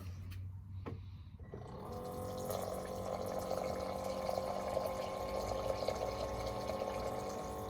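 Water poured into a chia seed mixture for squish tacos, a steady filling rush that rises after a quiet start and runs on continuously, close and moderately loud.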